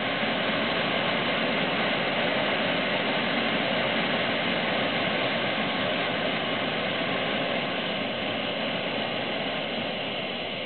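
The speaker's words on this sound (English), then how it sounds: "Here we have full throttle. And we're going to wind it down." An OmniDawg engine running on kerosene drones with a steady, loud, hissing roar, holding a constant dense blast of noise throughout with no clear drop in intensity yet and no voices.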